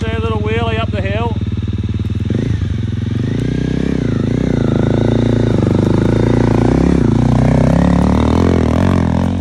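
A motorcycle on an adventure ride near the Goulburn River in New South Wales revs hard and accelerates up a hill, engine note rising and surging with gear changes, loud and close, following a brief burst of voice.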